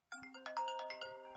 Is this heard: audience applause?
no